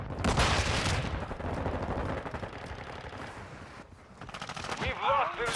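Rapid bursts of automatic gunfire and heavy shots in a shooter film battle, loud and dense, with a brief lull and a final burst, while a voice shouts partway through.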